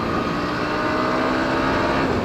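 A Bajaj NS 160 motorcycle engine drones loudly and close after a downshift, its pitch holding steady at high revs with no voices over it.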